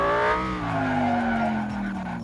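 Tires screech as a car brakes hard in a property-dealing simulation game, a single sustained squeal sliding slowly downward in pitch over about two seconds, loud and close with no talk over it.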